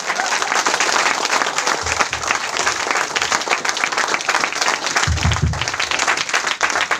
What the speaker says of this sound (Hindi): गणपत जोर से, ये ताली हुआ क्या?